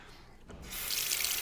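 A shaving razor is rinsed under a running tap: a soft clink, then steady hissing water streams into the sink, close and fairly quiet.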